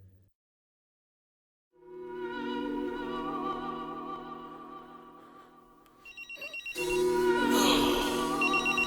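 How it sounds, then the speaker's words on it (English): A mobile phone ringtone plays loudly and steadily for several seconds, then grows busier and louder as more layered tones and noise join in toward the end. "Where the hell's my phone at?"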